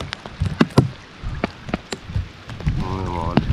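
Rain falls at sea during a storm while a fishing crew cooks aboard, a steady hiss and patter with sharp drop taps throughout, and voices talk near the end.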